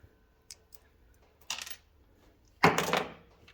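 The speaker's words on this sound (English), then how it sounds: "use a magnet to retrieve your keepers" Valve spring keepers on an LS V8 engine are pulled out with a magnet, giving small metallic clicks and a sharp clatter of little steel parts at close range, with no talk over them.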